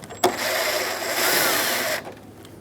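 A power socket driver spinning out a front grille screw on a 1988–1999 GMC K1500 pickup, one sustained close whirring burst of about two seconds after a short click, with no talking.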